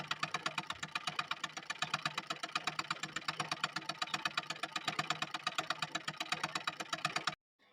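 A sewing machine runs steadily and close, its rapid even stitching rhythm continuing for about seven seconds as lace trim is sewn along the edge of blouse fabric, then it stops abruptly.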